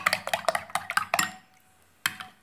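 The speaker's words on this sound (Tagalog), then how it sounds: "4 eggs, mix lang natin guys" Four eggs beaten in a bowl for crispy fried chicken: a quick run of sharp clinks and taps of utensil against the bowl, close and fairly loud, pausing briefly before one more burst of knocks.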